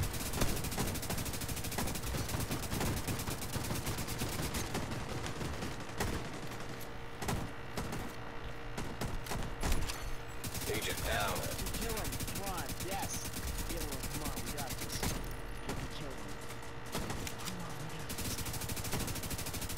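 Light machine gun fire in The Division 2 multiplayer conflict match, rapid bursts of automatic gunfire crackling through a busy mix of game sounds, with players talking over it.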